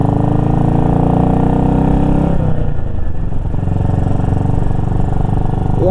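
BSA Goldstar single-cylinder motorcycle engine, freshly repaired, running loud and close with a throbbing, rapid exhaust beat that revs up, then drops back to a lumpy idle partway through, with no voices.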